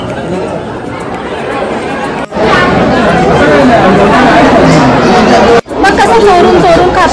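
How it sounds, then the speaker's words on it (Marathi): Dense crowd chatter fills a packed Jyotirlinga temple interior, a loud continuous hubbub of many voices with two brief cuts, close and enveloping. "आम्हाला वाटलं होतं गर्दी नसेल पण मंदिर मध्ये गर्दी खूप आहे."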